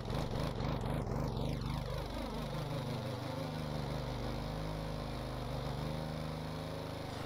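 A video-game vehicle engine revved at full throttle, a loud steady droning whine that sweeps downward in pitch early on and then holds a constant buzzing tone.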